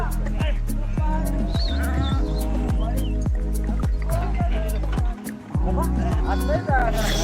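Sheep from someone's flock bleat in short, repeated calls while being given medicine, close and loud, with people talking over and between the cries.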